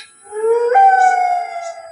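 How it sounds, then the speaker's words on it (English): A single jackal's howl rises and wavers in a long, clear tonal glide, loud and close against an otherwise quiet night. "The jackals are howling again."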